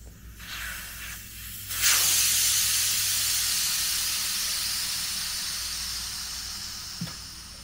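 Air rushes out of a Kawasaki Bayou ATV tire once the valve core is removed, a loud steady hiss that starts after a few faint clicks and slowly fades over several seconds, close up.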